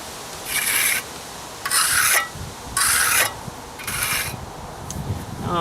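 A trowel scrapes across a fresh concrete mini pad in four distinct rasping strokes with short pauses between them, close and fairly loud, with no talking.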